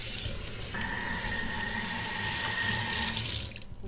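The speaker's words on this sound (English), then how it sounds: "I'm gonna wash my hands now" Tap water runs steadily into a sink for hand washing in a home kitchen during baking, a continuous close splashing stream that stops abruptly near the end.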